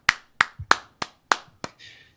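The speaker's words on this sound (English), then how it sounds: "everybody give a big round of applause to Phil Jones" About half a dozen sharp, separate handclaps at an irregular pace, close and crisp, from a podcast guest welcome, ending in a short soft noise.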